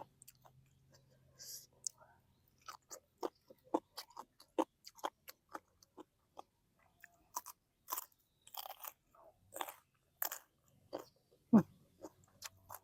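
Crunchy chewing of spicy Thai papaya salad with octopus, heard as a series of close, sharp crisp bites and chews in irregular rhythm against near silence.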